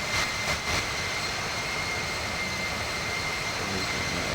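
Airplane engines roar steadily during a go-around in the Infinite Flight simulator game. The jet-like drone stays loud and even throughout, with a few brief whooshing pulses early on.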